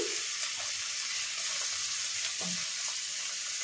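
Chopped tomato and chilli fry in oil over a medium gas flame, a steady close sizzle with a few soft stirring scrapes, no voices.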